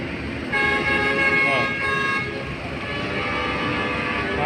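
Container truck horns honk at a congested port, sustained loud blasts from several vehicles overlapping against a rumble of traffic, with people talking nearby.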